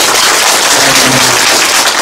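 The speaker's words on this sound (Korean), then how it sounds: "우리 7분 토론자에게 다시 한번 큰 박수 한번 보내주시기 바랍니다" Loud, dense applause from an audience at a city urban regeneration public hearing, honoring a panel of seven discussants, a continuous close wash of many hands clapping for a couple of seconds.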